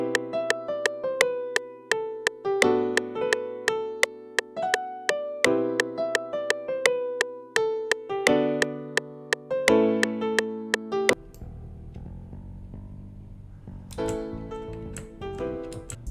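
Strummed major seventh chords over low bass notes, programmed in FL Studio with softened bass velocities, repeating in a steady progression of bright plucked attacks before a quieter, more muffled passage near the end.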